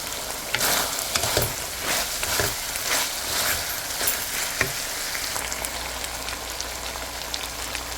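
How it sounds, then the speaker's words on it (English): Sliced ginger sizzles and crackles in a hot frying pan with onion for beef lo mein, a steady fry broken by several sharp scraping stirs of a utensil against the pan, heard close and with no talk. "And I'm going to stir this"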